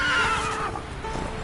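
A horse in a PS4 video game gives a short, loud whinny that quickly fades into softer background noise.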